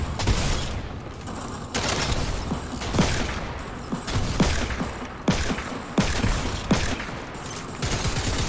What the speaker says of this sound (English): Oh, it's super loud, bro. The Primal Pistol.